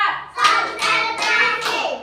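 Children clap their hands together in a counting game, four sharp, evenly spaced claps close to the listener, with young voices chanting along between them.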